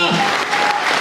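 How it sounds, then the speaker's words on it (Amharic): Church congregation applauding, a brief burst of dense clapping with voices mixed in, loud and close. "አጨብጭቡ"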